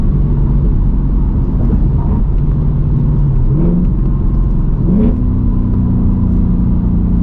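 A Ford Mustang GT S650 V8 pulls hard under acceleration with no-lift shifting, a loud droning engine note from inside the car climbing in pitch, with brief dips at each gear change before rising again.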